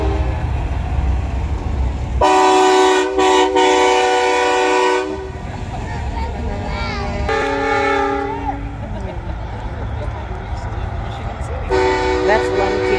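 Train whistle mounted on a restored parade truck at a night truck-show convoy sounds in several loud, sustained multi-tone blasts with gaps between them, over steady engine rumble and voices.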